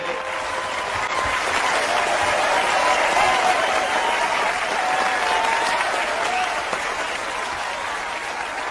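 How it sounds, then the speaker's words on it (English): A studio audience on a TV show applauds in a sustained, even wash of clapping that stays loud for nearly nine seconds, with cheering and voices mixed in. "Keep that applause going."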